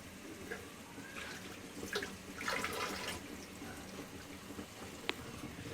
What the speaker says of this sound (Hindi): तो नाज़रीन इसमें हम तकरीबन पानी डालेंगे थोड़ा सा।